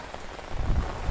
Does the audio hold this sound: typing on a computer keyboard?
no